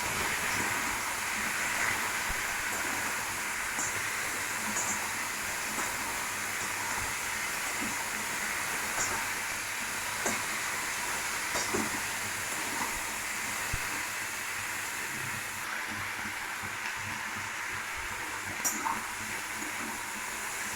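Food with tomato, salt and turmeric frying in a pan, a steady loud sizzling hiss that runs continuously with occasional faint clicks and no pauses.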